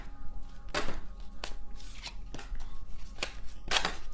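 Tarot cards shuffled close by in a series of short, crisp riffling bursts spaced a second or so apart, with no talking.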